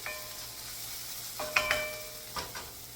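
Vegetables and sausage sizzle in a pan with a steady low fry, broken by a few sharp clinks and scraping stirs of a utensil against the pan, close and alone.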